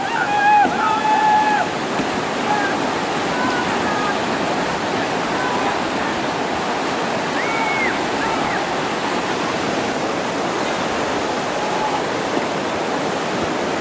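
A boat is paddled through water, with a loud, continuous rush and splash of water throughout. Faint voices are heard early on.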